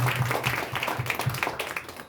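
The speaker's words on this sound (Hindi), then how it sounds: "जोरदार तालियों के साथ परमेश्वर की महिमा कीजिए।" A Sunday church congregation in West Bengal claps in praise to God, a fairly close, uneven burst of hand claps with some rhythmic pulsing, with faint voices mixed in.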